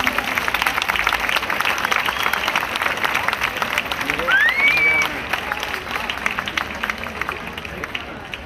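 An audience at the Serranilla de Mágina pageant in Huelma applauds as Victoria Solas comes up on stage, with steady rapid clapping and crowd noise, a whistle cutting in midway, and the applause easing slightly afterward.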